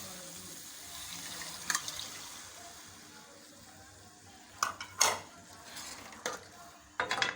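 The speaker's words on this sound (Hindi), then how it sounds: "अब पानी डाल लेंगे" Water is poured into a pan of cooking white chickpea curry, a faint, low wash of liquid with soft sizzling and a few sharp clinks of stirring.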